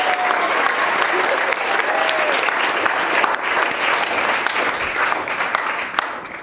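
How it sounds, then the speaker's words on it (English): Wedding guests at a humanist ceremony clap together in loud, sustained applause that stays dense and even before tapering slightly at the end, with faint voices mixed in. "A big clap for them doing that, please."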